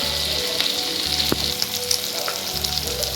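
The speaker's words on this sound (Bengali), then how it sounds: "তো এরপর আমি ভালো করে এটাকে ফ্রাই করে নেব।" Dried red chillies frying in hot oil in a pan for a restaurant-style chilli egg dish, with a steady close sizzle and a few faint stirring clicks.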